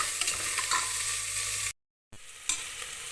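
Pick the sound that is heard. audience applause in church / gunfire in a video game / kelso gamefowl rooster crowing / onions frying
onions frying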